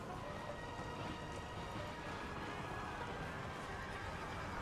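Cavalry horses in the Empire 2 game whinny and neigh through a dense, continuous battle din. Hoof clatter sits underneath the calls throughout.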